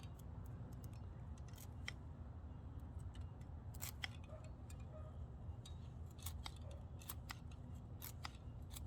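Scissors snip through garden herb plants in a quick run of crisp, close cuts over a low outdoor rumble, no talking.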